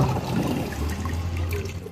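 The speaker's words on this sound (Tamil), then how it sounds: "இப்போ நம்ம துணி போட்டாச்சு நண்பா இங்கே பார்த்தீங்கன்னா உங்களுக்கு தெரியும் துணியை போட்டு துவைச்சிட்ருக்கு" A semi-automatic washing machine churns clothes in water, giving a close, steady sloshing and swishing with a low motor hum.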